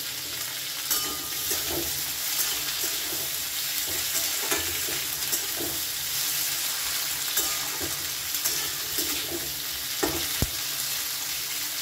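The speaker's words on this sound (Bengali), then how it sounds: "টমেটোটা দিয়েও ভালো করে একটু ভেজে নেব।" Tomato and vegetables frying in a pan for a vegetarian dish, a steady broadband sizzle with occasional stirring scrapes and soft clicks throughout.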